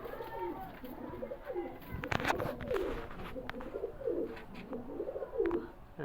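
Domestic fancy pigeons coo in soft, repeated rolling calls, several birds close by, with faint background noise between the coos.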